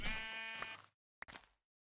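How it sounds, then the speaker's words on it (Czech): A single sheep in a Minecraft-style game gives a clear, nasal bleat, followed after a short silence by a second brief bleat, both close and alone. "furt se mi tady pohybují ovečky"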